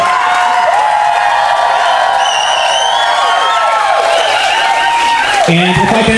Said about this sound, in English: how about an even bigger round of applause for our bride and groom?